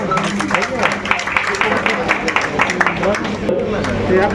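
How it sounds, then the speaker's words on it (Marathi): Applause and crowd noise from an audience at a state-level award ceremony, a dense, steady patter of clapping that carries loudly through the whole stretch with some voices mixed in. "जोरदार टाळ्या या ठिकाणी पाहिजे"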